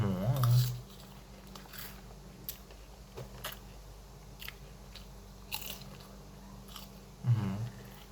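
Crunchy bites and chewing on a Thai packaged snack, with a couple of heavier close bites at the start and near the end and softer munching scattered between, under faint murmuring.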